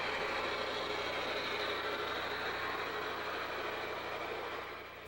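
Scratch-built model trains run on a mountain-style Colorado and Western Railroad layout, giving a steady, continuous rolling rumble with a faint hum that holds even throughout and fades slightly at the end.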